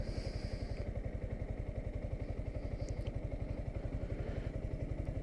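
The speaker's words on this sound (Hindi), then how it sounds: "जैसे हमने ऑन की बाइक और स्टार्ट कर दी बाइक" A Yamaha R15M motorcycle engine runs at a steady idle just after starting, a close, even, rapid low thumping that holds throughout with no voices.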